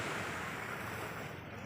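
Steady broadband wash of sea waves at a beach in the early morning, continuous and fairly close, mixed with wind noise, no voices.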